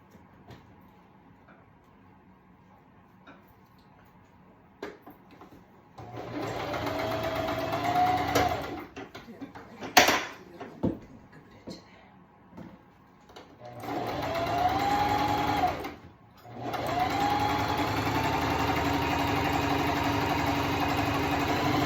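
A sewing machine stitches a garment in bursts, long steady whirring runs starting and stopping between quiet gaps, with soft handling clicks and a brief sharp clatter in between.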